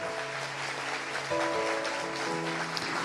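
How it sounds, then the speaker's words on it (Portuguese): A church congregation applauds during a service, steady clapping heard faintly at a distance beneath sustained musical tones, with no clear speech. "pode aplaudir Jesus"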